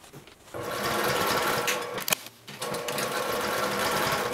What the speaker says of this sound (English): I'm going to flip this over and top stitch from the right side of my fabric